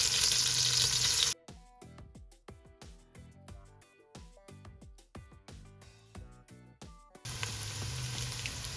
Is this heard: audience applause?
no